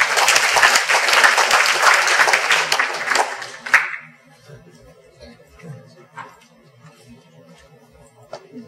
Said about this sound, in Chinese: 大家热烈掌声欢迎